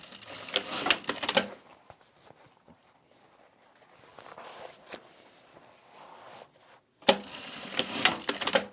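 A sewing machine stitches across a quilted travel bag in two short, busy bursts of rapid mechanical clatter, one at the start and one at the end, with a quieter stretch of faint handling noise between them.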